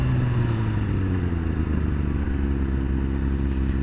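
A Yamaha FZ-07 motorcycle fitted with an aftermarket exhaust revs steadily and loudly up close, its engine note droning without a break and with no talk over it.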